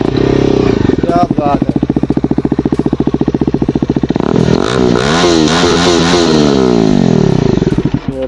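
A Bajaj Dominar 250 motorcycle in neutral revs hard and loud up close, a steady throbbing idle giving way to repeated sharp throttle blips that rise and fall, with a brief spoken exclamation over the engine.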